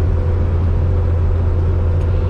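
A vehicle cruising eastbound on Interstate 20 near Terrell, Texas: a loud, steady low engine and tire drone inside the cab, unbroken and without speech.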